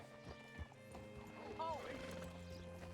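Horse hooves clip-clop in a Red Dead Redemption 2 scene, with a horse whinnying partway through and a voice talking over the ambience.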